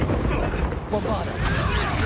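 Bombarda spell blast in Hogwarts Legacy, landing as a sudden crashing burst about midway through dense, busy combat noise, with a voice speaking over parts of it.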